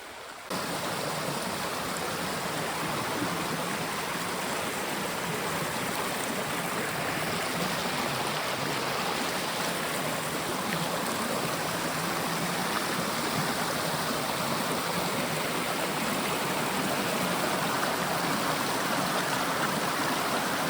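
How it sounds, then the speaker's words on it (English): Rushing creek rapids in the woods at Hayes Lake, Algonquin, flow in a dense, continuous roar of water, steady and close for the whole stretch with no pauses. "the creek, the rapids just seem to keep going and going"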